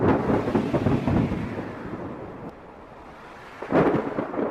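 Cartoon rain pours over a forest in a steady broadband wash, with low rumbling swells like distant thunder. It is moderately loud, fades midway, then surges again near the end, and no voices are heard.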